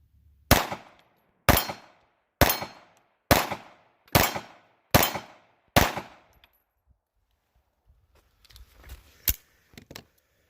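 Seven loud, sharp gunshots from a Taurus Spectrum pistol fire at a steady pace, roughly one per second, each followed by a short decay, then a pause with faint handling noises and one more shot.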